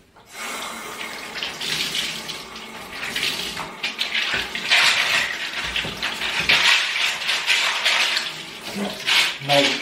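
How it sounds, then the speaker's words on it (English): Old Atari 1040 ST keyboard keycaps being rinsed in fresh water, a steady close splashing of running tap water in a sink with some small knocks and swells in the flow. "Now we rinse them in fresh water and now let them dry"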